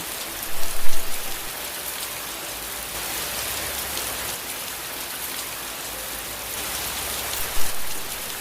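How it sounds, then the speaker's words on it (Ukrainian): Steady rain pours down in a dense, even hiss, with a couple of louder spatters and no voices. "Правильно, це звуки дощу."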